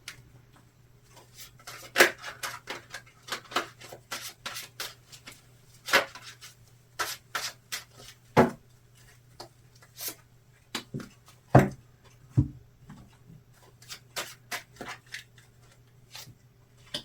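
Playing cards being shuffled and handled, giving a string of short crisp riffles and snaps of varying loudness over a steady low hum, with no talking.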